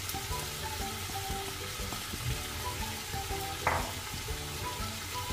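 Shrimp and vegetables sizzle steadily in a hot pan for lumpia filling, a constant crackling fry with occasional stirring clatter and one brief sharp clink.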